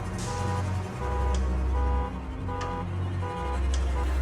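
Distant car alarm chirping in repeated short bursts, alongside a steady low engine hum, heard outdoors while fishing.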